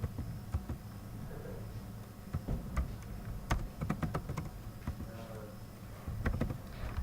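Values are typed on a computer keyboard as a run of crisp, close, irregular keystrokes with short pauses between bursts, over a quiet room hum.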